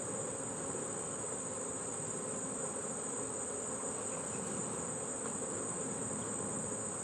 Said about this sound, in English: the bees are all stuck together in honey